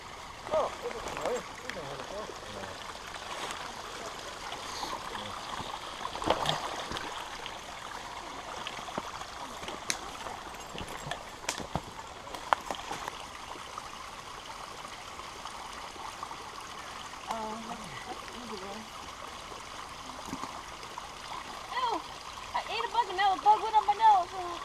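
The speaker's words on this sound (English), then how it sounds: "And there's the stream." A rocky stream flows steadily in the background as someone wades downstream over slippery stones, with occasional splashes and a few spoken words.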